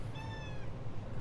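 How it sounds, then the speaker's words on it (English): A single cat meow, drawn out and slightly rising, close by and fairly quiet against a low background hum. "Was that him meowing?"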